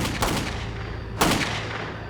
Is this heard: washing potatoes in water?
no